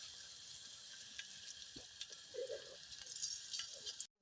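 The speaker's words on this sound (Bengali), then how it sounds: "তো চিকেনগুলো আমি দিয়ে দিচ্ছি।" Chicken pieces hit hot oil in a home kitchen pan late at night, setting off a steady, close sizzle and hiss with a few small clatters and splatters, no one talking.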